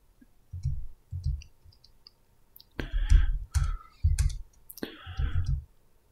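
Keyboard and mouse clicks from someone playing Flight Simulator, heard as quiet bursts of low clicking and tapping that come in irregular clusters, with a few sharper, brighter clicks in between.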